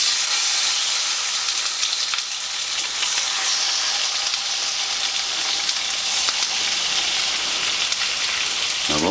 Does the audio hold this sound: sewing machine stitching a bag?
no